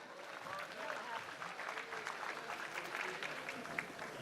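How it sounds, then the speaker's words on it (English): Distant crowd applause for boxer Gervonta Tank Davis, with scattered claps and cheering, fairly faint and continuous, with some voices mixed in. "Y'all give a round of applause for Gervonta Tank Davis."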